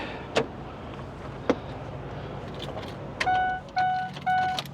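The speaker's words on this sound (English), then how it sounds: "Oh, that beep is annoying. But sure, make sure you don't forget your keys." A parked van's key reminder chime sounds after the engine is switched off, three evenly spaced electronic beeps near the end, following a couple of faint clicks over a quiet cabin hum.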